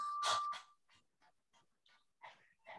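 A person imitates a dog's panting during yoga pranayama, tongue out: a few quick, breathy huffs up close, the first the strongest, followed by softer, irregular puffs of breath.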